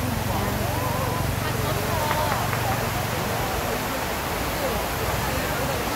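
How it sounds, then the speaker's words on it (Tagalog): Water flowing in a garden water feature among flowers and bonsai, a constant rushing wash heard close, with a person talking over it. "Ayan ang umaagos ng tubig."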